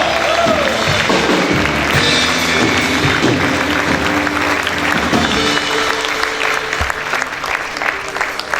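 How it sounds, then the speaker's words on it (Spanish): A church congregation claps and shouts loudly in praise to God during a Spanish-language service, sustained dense applause with cheering voices throughout, close and reverberant, easing slightly toward the end. "¿Cuántos pueden gritar y aplaudir fuerte a Dios?"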